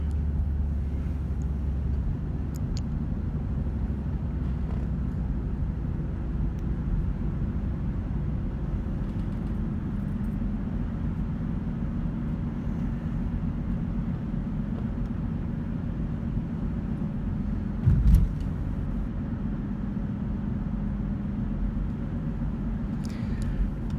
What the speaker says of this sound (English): as I drive around this leafy suburb of St. Louis, Missouri in Ballwin, Missouri.